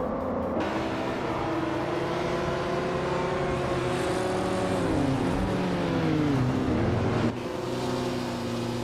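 Vintage 1973 Porsche 911 RS and other race cars in a racing video game, engines roaring loud and close as they rev and accelerate off the start line, pitch climbing and shifting through gears without a break.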